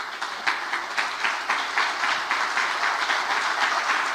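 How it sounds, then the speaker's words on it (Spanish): A church congregation applauding together, a fairly close, steady wash of clapping with a loose rhythmic pulse running through the short stretch, no speech over it. "Un aplauso al Señor."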